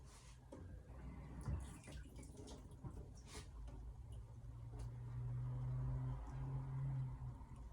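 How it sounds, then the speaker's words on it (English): A knife blade rinsed under a running tap after sharpening on whetstones, a soft continuous water stream with fingers rubbing the steel, faint and close, with a low hum underneath and no speech. "I'm going to rinse that again just to show you"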